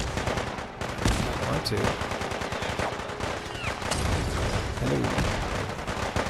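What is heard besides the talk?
gunfight with gunners in the video game Fallout 4 (Sim Settlements 2)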